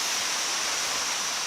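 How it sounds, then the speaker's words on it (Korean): Gyeonam Falls on Udusan mountain in Geochang pours down in a steady, dense roar of falling water, broadband and unbroken, heard alone without voices. "우두산의 자랑이자 거창 항로화 힐링랜드의 대표 명소 견암폭포와 마주하고 섰습니다"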